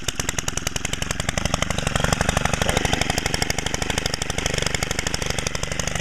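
Stihl FS90R gas string trimmer engine running steadily just after a cold start, a loud, close, rapid rhythmic two-stroke putter with a harsh buzzing edge that holds throughout.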